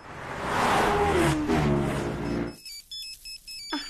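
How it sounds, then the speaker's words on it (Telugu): A phone ringtone plays in short repeated electronic tones after a stretch of loud rumbling noise, fairly close and moderately loud. "ఏమండి, మీ ఫోన్ రింగ్ అవుతోంది"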